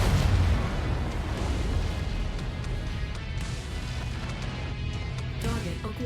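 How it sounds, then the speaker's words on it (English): Incoming missile striking in MechWarrior 5: Mercenaries, heard as a loud, rumbling blast at the start that gives way to a dense, sustained roar of battle noise. "Incoming missile."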